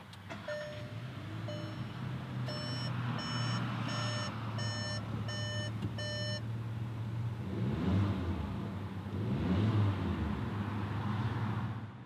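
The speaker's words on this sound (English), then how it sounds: "You put your foot on the brake and hold it, and you push this button to start it up." A 2019 Volkswagen Jetta 1.4T SEL Premium is started with its push button: a string of evenly spaced electronic chimes plays, then the engine fires and settles into a steady idle with a couple of mild surges.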